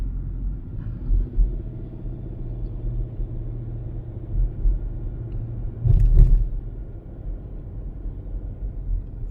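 A car rolls slowly along a residential street past large houses, heard as a low, steady road and engine rumble with a brief louder swell midway.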